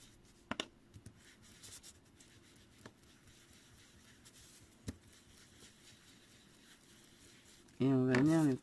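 Pen writing on white paper for a vintage flower card, a quiet scratchy rubbing with a few soft taps, close and faint, with a brief voice near the end.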